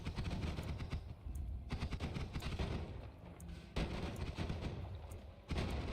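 Gunfire in the roguelike game Noita: continuous rapid volleys of shots and blasts, loud and dense, with brief dips between bursts and a few sharper cracks standing out.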